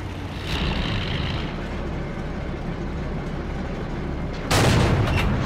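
A tank gun shot in World of Tanks booms out suddenly and loud near the end, breaking over a steady low engine rumble that runs throughout.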